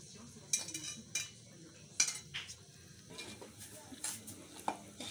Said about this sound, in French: je vais retirer mes légumes pour écraser avant de mettre dans